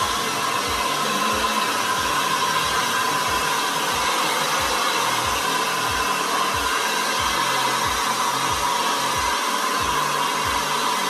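A hair dryer blows steadily and loudly for the whole stretch, a constant airy roar with a regular low pulsing underneath.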